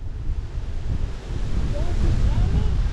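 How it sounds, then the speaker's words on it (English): Strong wind gusts buffet a kayak out on the Des Plaines River, a loud roaring rush of wind blasting the microphone amid splashing water, swelling stronger after a brief lull, with voices faintly under it. "100-mile-per-hour wind gusts just come through."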